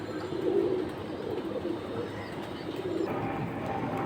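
High-flying female pigeons coo softly and fairly quietly, giving two or three low, rounded coos over a steady background murmur.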